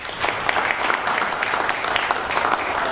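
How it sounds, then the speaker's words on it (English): Audience in a village hall applauds a Conservative MP's talk, a dense, even patter of many hands clapping close up, sustained for a few seconds without pause. "thank you very much indeed for your very warm round of applause"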